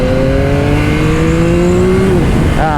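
A 2025 Yamaha YZF-R9 triple-cylinder motorcycle engine revs up steadily in one long rising pull, then drops and quickly climbs again, heard up close.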